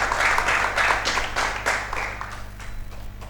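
Studio audience at a Ramadan special claps for the guest Hasbi, a brisk, moderately loud round of applause in waves that tapers off over a few seconds.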